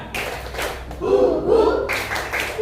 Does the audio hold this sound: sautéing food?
no